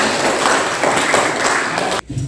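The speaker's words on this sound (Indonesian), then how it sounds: "kita tepuk tangan untuk kita semua" Pupils in a primary classroom clap their hands together in a close, busy burst for about two seconds, and the sound cuts off abruptly.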